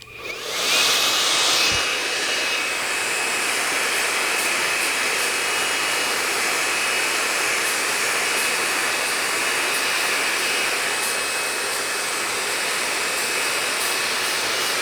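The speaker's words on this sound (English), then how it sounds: "as I'm blow drying the hair, I'm styling it to the style that he wants to comb his hair" A hair dryer blows steadily while a man's hair is styled into a slicked-back look during a high bald fade haircut, a loud, continuous whooshing whir that runs unbroken from start to finish with no talking.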